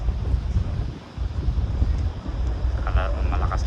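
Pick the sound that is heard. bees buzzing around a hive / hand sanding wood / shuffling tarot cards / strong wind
strong wind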